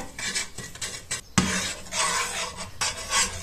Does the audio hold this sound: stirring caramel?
yes